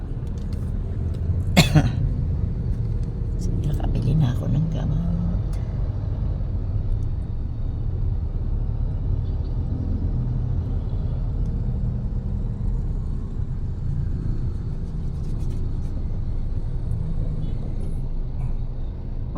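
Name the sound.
city road traffic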